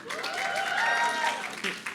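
Audience at the Barnard Class of 2021 academic reception applauds friends and classmates, dense continuous clapping with some cheering voices over it, holding steady before thinning near the end.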